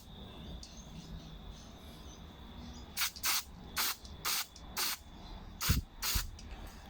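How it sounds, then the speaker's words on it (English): Carpet cleaner sprayed from an aerosol can through the nozzle check valve of a Honda GX25/GX35 carburetor, heard as seven short, sharp hissing bursts in a steady rhythm, close and fairly loud over a quiet background with no talking. "if you apply the carpet cleaner here, it should come out on the other side"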